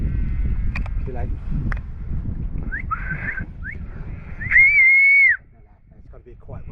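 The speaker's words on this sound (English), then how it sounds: "It's got to be a quiet whistle." Soft background rustling and brief voices during a wild fallow deer hunt, then a few short chirpy whistle notes followed by one sustained, steady whistle tone before things go quiet.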